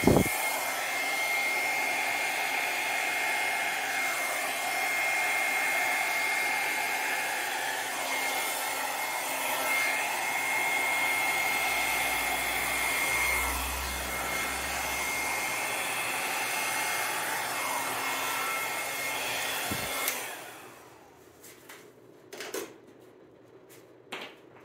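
A hair dryer blows across wet poured paint over a gold base, a loud, steady rushing hum held close for about twenty seconds before it cuts off, leaving quiet with a few faint knocks.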